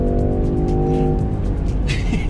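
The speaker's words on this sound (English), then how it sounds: "The 3-litre V6 sounds wicked." A 2022 Range Rover Sport with a 3-litre V6 engine accelerates hard in sport mode, a loud, steady drone rising under full throttle for a couple of seconds, heard from inside the car.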